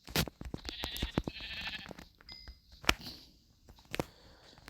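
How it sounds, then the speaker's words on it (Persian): Sheep bleat faintly in a Minecraft game, short synthetic calls mixed with sharp clicks and game noises, at low volume with no talk over them. "گوسفند رو بکشم."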